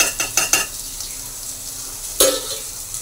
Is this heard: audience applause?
no